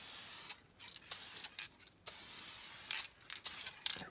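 Short bursts of spraying polyurethane gloss coat onto quarter window trim from a 1948 Chevy Fleetmaster, faint hissing passes coming in irregular pulses with quiet gaps between.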